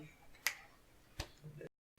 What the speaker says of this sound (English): Can't be clapping too loud. Do the snaps.